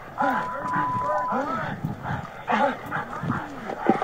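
A police dog barks and whines repeatedly during an arrest, in rapid bursts close by, while people shout and talk over it the whole time.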